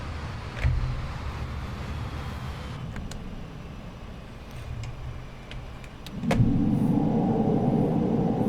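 Concorde engines roar into reverse thrust in a flight simulator, a broad steady rumble that jumps louder after a click and holds strong to the end, with scattered control clicks and no talking.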